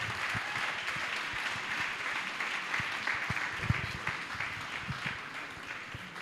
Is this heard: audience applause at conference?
yes